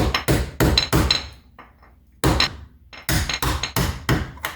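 Sharp metallic hammer strikes on a screwdriver against a steel door hinge pin, delivered in two quick bursts of several taps each, close and loud, with a brief quiet gap between.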